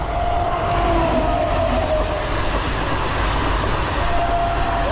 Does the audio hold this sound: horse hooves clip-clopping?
no